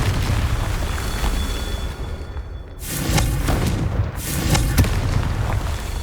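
Confringo fire-blast spell explosions in Hogwarts Legacy, two loud booming bursts with a crackling roar that swell and linger amid steady game ambience.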